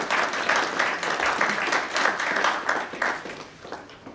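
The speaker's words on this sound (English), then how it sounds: "Please give all of them a hand of applause." An audience at a book launch in Delhi gives a round of applause, many hands clapping in a lively pattering burst that swells and eases before tapering off near the end.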